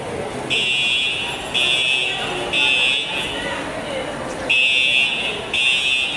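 An alarm sounds inside a shopping mall, repeating loud steady buzzer tones about once a second in a regular on-off pattern over the hum of a crowd.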